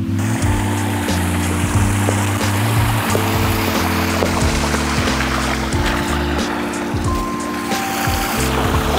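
Water rushes steadily along a stream beside a river trail, a loud continuous wash with no voices over it.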